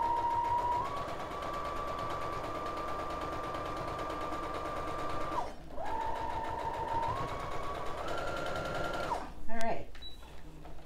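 A sewing machine stitches a paper pieced pattern, its fast steady whir running near and loud with a short pause partway through, before it stops and a voice speaks briefly at the end.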